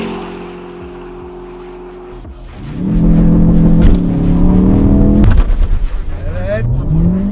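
Honda Civic Type R and Ford Focus RS in a drag race: a steady idle gives way at launch to a loud, rising engine roar, with a sharp gear-change break before revving on again, close by.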